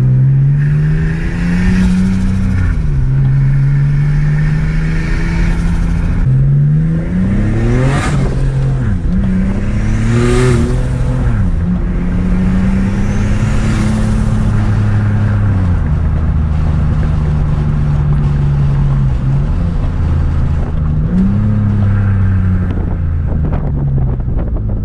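Nissan G35 with a budget mid-mount turbo, cruising with the windows open: engine revs rise and fall through several gear changes with turbo whoosh and bursts of wind buffeting, loud and close.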